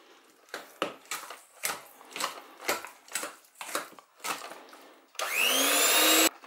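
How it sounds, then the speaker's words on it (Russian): A handheld electric mixer whirs steadily for about a second near the end, whisking a cottage cheese filling, after a series of short clattering and scraping bursts. "Я сделаю это миксером."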